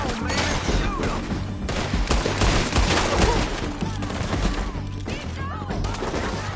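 A heavy gunfight in Red Dead Redemption, with dense overlapping rapid gunshots and volleys filling the whole stretch, loud and continuous, with faint voices mixed in.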